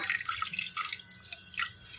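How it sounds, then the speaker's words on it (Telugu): Water drips from the joint of a pressure cooker into a small glass, faint irregular drips and light trickling close by in a quiet kitchen. "నేను ఈ చిన్న గ్లాస్తో వాటర్ తీసుకుంటున్నాను."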